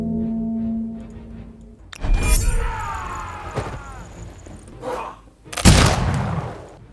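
Enemy gunners firing in the strategy game Humankind, with sharp bursts of gunfire and crashing impacts in separate loud volleys, separated by quieter stretches of game ambience.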